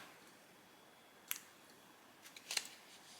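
Two quick, crisp scissor snips cutting thread, spaced about a second apart, close by in an otherwise quiet room.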